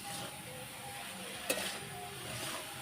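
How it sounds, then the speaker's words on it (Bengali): Coconut and sugar are stirred in a pan to make naru, giving a soft continuous sizzle with a light scrape and one brief clink midway, quiet and close. "ভালো করে নাড়াবো।"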